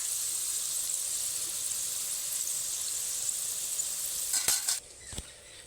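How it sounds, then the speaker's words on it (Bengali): Lentils frying in hot oil for spicy dalmut give a steady, fairly quiet sizzle that runs throughout, ending with a few clinks and scrapes. "খুব ভালোভাবে ডাল ভাজা আমার কমপ্লিট হয়ে গেছে।"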